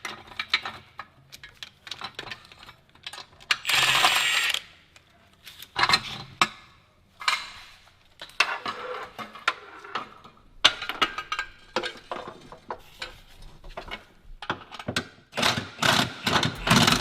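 A ratchet wrench loosens exhaust nuts under a 3.7L V6 S550 Mustang during a turbo kit install. Repeated bursts of quick metallic clicking come and go over several seconds, close and moderately loud, with no talking.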